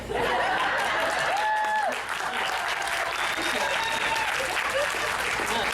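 A stand-up comedy crowd bursts into sustained, loud applause mixed with laughter and cheering, holding strong throughout with a brief dip partway.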